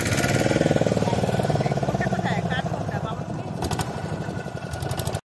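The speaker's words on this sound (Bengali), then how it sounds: "নৌকা চালু হয়ে গেল" A motor boat engine runs close by near a beach, with a loud, rapid chugging throb that holds steady and then cuts off abruptly at the end. People talk over it.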